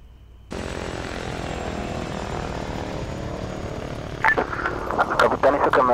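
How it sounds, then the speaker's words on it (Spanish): Cobra attack helicopter flying in the military game Arma 3, a steady loud rotor and engine drone that holds throughout, with brief radio-style voice chatter near the end. "Confirme que ese helicóptero es Cobra."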